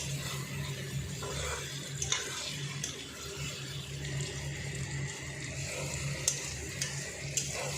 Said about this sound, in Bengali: ভেজে রাখা আলুটা দিয়ে দিলাম। দিয়ে এবার আলুটার সাথে কষাবো।